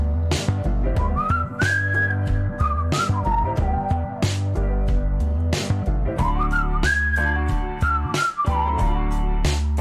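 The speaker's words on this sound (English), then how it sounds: "whistling, more whistling" Melodic whistling carries a tune over a song's music, with drum hits and backing instruments underneath throughout.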